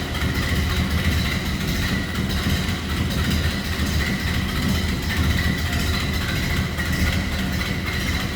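A 1931 Ford Model A Tudor Sedan engine idles steadily nearby, a continuous low rumble with an even mechanical chug that never changes pace.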